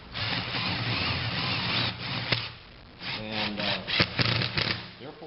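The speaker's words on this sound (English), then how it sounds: "I'm going to put some sheetrock screws in here." A power driver runs sheetrock screws into a tough sheet of Lexan polycarbonate, giving a loud, sustained grinding buzz in several bursts with short pauses between them, close up.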